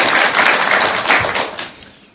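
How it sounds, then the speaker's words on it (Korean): Studio audience applauding in encouragement for a nervous guest on a Buddhist talk show, a dense burst of many clapping hands that swells and then fades out over about two seconds. "격려와 응원의 박수 한번 부탁드리겠습니다"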